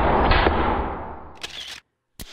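A Richelieu I-Pin 23 gauge P650L pin nailer fires into softwood trim: a fading hiss of air, then two sharp, isolated snaps of pins being driven, close and distinct.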